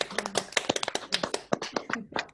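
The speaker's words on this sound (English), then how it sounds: "give our speakers a round of applause" Sparse, uneven clapping from participants on a video call, a quick scatter of separate hand claps at close range, quite soft overall with no voices.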